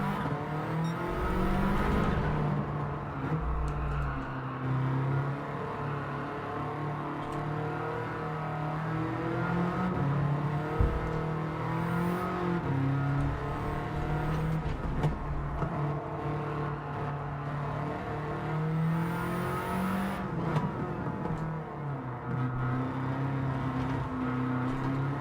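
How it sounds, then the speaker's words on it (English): A Subaru rally car in Gran Turismo 7 holds a steady, droning engine note at high revs for the whole stretch, with a few brief swells and dips as it is pushed through corners on soft comfort tyres. "I love that sound. Can't mistake a Subaru."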